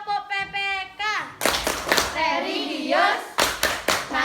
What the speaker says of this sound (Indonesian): Lagi sekali tepuk PPK.